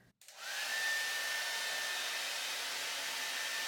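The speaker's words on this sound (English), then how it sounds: "So I'm gonna dry the rest of my hair." A hair dryer drying freshly dyed hair switches on abruptly and settles into a loud, steady, close whoosh with a faint high whine, running alone without speech.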